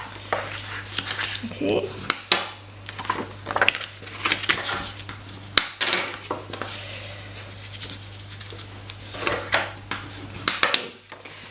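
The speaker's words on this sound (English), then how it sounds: "we're going to fold and burnish along all of the score lines there" Stamped cardstock for a slide-on lid box is folded and burnished along its score lines, giving close rustling, rubbing and tapping sounds over a constant low hum, with a brief spoken word.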